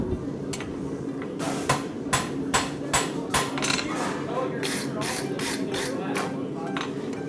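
A farrier's hammer strikes a horseshoe on the anvil to forge-weld the scarfed ends together: a quick, steady run of ringing close blows with a few short pauses, over a background of shop noise.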